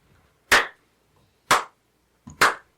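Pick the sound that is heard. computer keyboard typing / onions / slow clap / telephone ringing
slow clap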